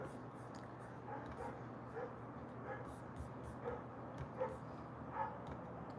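A dog gives a series of faint, short barks and yips at irregular intervals, somewhat distant, mixed with low room noise and occasional muffled speech.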